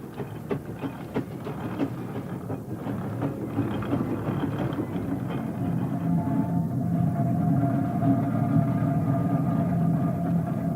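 A heavy steam engine at a steam fair runs steadily, a continuous low mechanical rumble with rhythmic churning that grows slightly louder over the stretch, with no speech on top.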